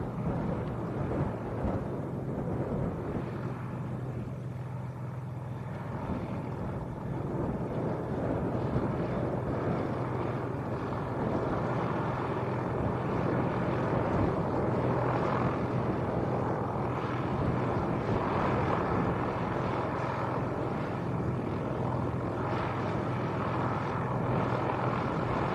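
A Cessna light aircraft, a 172 or 182, heard at a small airfield as a moderate, steady propeller-engine drone with a low hum, holding evenly throughout without talk.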